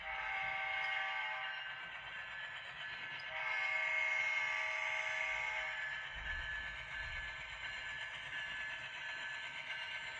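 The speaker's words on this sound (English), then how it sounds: "My NS DCC and Sound SD60E Norfolk Southern Go Rail locomotive is coming across the bridge here" An N-scale Norfolk Southern SD60E model locomotive with DCC sound crosses a bridge on a layout, its sound unit giving a continuous diesel drone with tonal horn-like notes that swell midway and then ease off.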